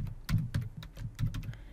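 Short bursts of computer keyboard typing as a web address is entered, with quick, irregular key clicks close and fairly quiet, with no talking.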